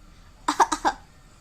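Four quick, close coughs in a tight burst, then silence.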